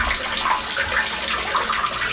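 Water drains out of the tub of an Equator washer/dryer combo installed on a 45-foot sailboat, making a continuous rushing, gurgling wash of water that is fairly loud and close, with no talking.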